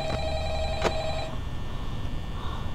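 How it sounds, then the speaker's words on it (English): Telephone ringing in the horror video game Five Nights at Freddy's, a bright electronic trill with a sharp burst near the start that stops after about a second, leaving a low ambient hum. "My phone is ringing."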